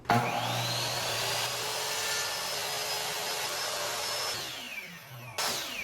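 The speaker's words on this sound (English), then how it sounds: "For that, I'm using these 1-inch dowels. I need to cut all of these to 20 inches." Steady power saw cutting 1-inch wooden dowels to 20-inch lengths, a loud continuous whine with a brief rising tone and a short pause near the end before the motor kicks back in.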